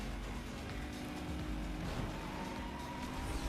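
Toyota Supra engine in the racing game Need for Speed Most Wanted, a steady loud drone holding at high revs throughout with no pauses and no voices.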